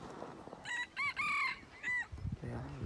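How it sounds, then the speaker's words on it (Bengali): A local rooster crows near Kaziranga National Park, a clear close cock-a-doodle-doo in several drawn-out bursts over faint background noise, with brief murmuring voices at the end. "লোকাল মুরগি আছে এতে"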